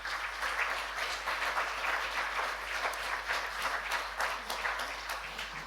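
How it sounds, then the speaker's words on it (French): Audience applause fills a church hall during a Sunday religious celebration, a steady sustained patter of many hands clapping at moderate, even volume for several seconds with no talking over it. "j'aimerais entendre un grand applaudissement ce matin"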